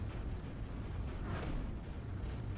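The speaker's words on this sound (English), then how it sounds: "we're just firing flak in all directions" Flak cannons in the space game X4 Foundations keep up a dense, rumbling barrage of muffled bursts that blur into a continuous low roar, faint and distant with no voices.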